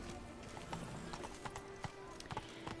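Hooves of Roach the horse clip-clop in The Witcher 3: Blood and Wine, a quiet, uneven run of close hoof strikes over faint game ambience, with someone talking over them.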